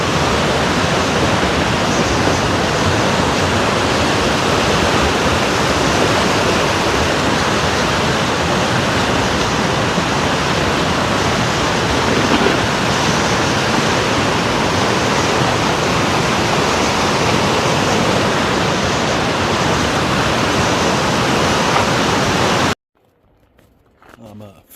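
South Boulder Creek rushes steadily at high flow, a loud, continuous broadband roar of water that holds unbroken for most of the clip before cutting off abruptly near the end, leaving only faint low rumble.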